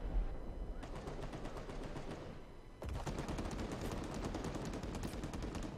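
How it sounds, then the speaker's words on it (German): Rapid bursts of gunfire aimed at a vehicle's tires in the Cold War mode of Men of War: Assault Squad 2, dense, steady automatic shots, louder after a short jolt midway, with no talk. "ich schieße die Reifen, die müssen doch kaputt gehen, die Reifen hier"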